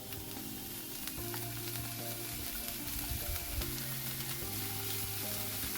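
Paneer frying in a pan with soy sauce, a steady close sizzle with soft low scraping and clinks running throughout, no voices.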